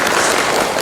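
Applause from a school audience, a dense burst of clapping heard alone throughout.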